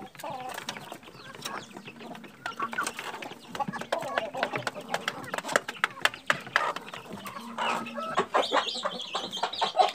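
Chickens and chicks clucking and peeping while pecking at feed, a busy scatter of soft calls close by, with a person talking now and then.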